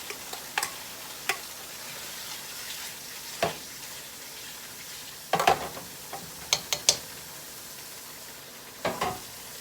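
Onion frying in a pan for liver gravy gives sparse, quiet crackles and sharp little pops scattered over a soft background hiss, with no talking.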